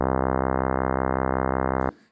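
Additive synthesizer tone built from stacked sine waves, a loud, steady, rich buzzy drone like a saw or square wave, holding for about two seconds before cutting off abruptly.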